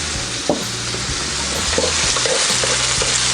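Onions sautéing in a little oil for a Visayan chicken in coconut dish, a loud continuous close sizzle broken by repeated scraping stirs of a spatula against the pan.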